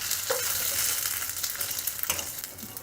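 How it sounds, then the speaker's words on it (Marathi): Rice roasts in ghee in a pan, a steady close sizzle with two sharp scraping stirs breaking through. No one speaks over it. "थोडंसं आपण तूप घालूयात आणि त्याच्यात आपण आपले हे तांदूळ चांगले परतून घेऊयात"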